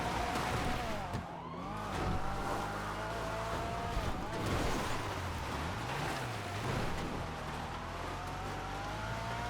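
A Remus tuner car from GTA Online's Los Santos Tuners is driven hard, its engine droning loudly and continuously, with revs rising and dipping through gear changes and faint road and wind noise beneath.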